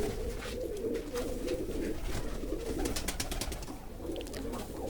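Pigeons cooing inside a wooden pigeon house set on a raised platform, soft overlapping coos repeating steadily at close range, with light rustling and no talk.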